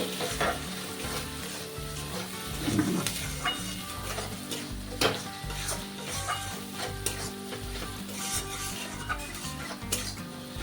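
Spices frying with onion and ginger-garlic paste for chicken curry, stirred steadily in a pan: a continuous close sizzle with repeated scraping strokes of the spoon, loud and alone without any talking.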